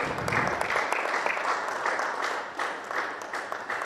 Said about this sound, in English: Let's welcome with a huge round of applause, Malak Fatih from Egypt.